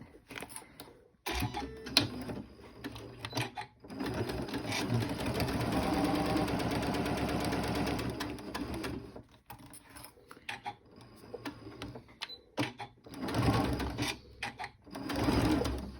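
A sewing machine stitches a lace zipper pouch, whirring in a long continuous run, then in shorter stop-start bursts with mechanical clatter, with no one talking.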